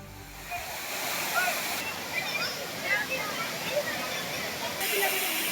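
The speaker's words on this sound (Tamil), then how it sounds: "அருவியில் நீர்வரத்து அதிகரித்த நிலையில் ஆர்ப்பரிக்கும் நீரில் குளித்து மகிழ்ச்சி." Water roars steadily at Thirparappu waterfall in Kanyakumari, swollen with heavy flow, a broad continuous rush close by with crowd chatter and splashing faintly mixed in.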